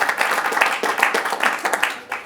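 At a governor's press event on the fentanyl crisis, the audience gives a state senator brief applause, a close, uneven patter of clapping that fades quickly.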